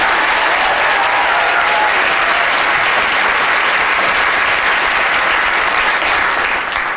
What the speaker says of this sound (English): Round of applause for Dominic